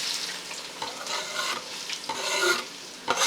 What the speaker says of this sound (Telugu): సో ఒక వైట్ ప్యాన్ తీసుకొని దీనిలో మనము గ్రౌండ్ నట్ ఆయిల్ వేసుకుందాం. సో నూనె మంచిగా కాగిందండి.